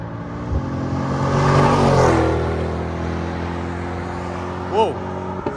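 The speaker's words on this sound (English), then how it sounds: "those shifts are ripping right through it. It sounds awesome. That performance package exhaust did not fail" A Chevrolet C8 Corvette Z51 with the performance package exhaust revs hard and climbs, then drops sharply with quick shifts, loud and close, easing to a steady idle with a brief rev near the end.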